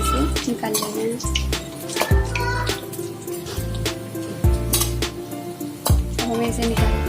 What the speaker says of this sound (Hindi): इसे हमें धीमी आंच में क्रिस्पी होने तक फ्राई करना है